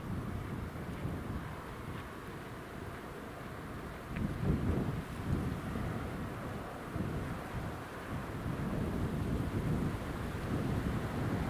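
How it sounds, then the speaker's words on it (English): Blustery wind at Newcastle International Airport buffets the microphone in a steady low rumble, swelling in gusts near the middle and toward the end. "Still a little bit blustery here this morning, actually."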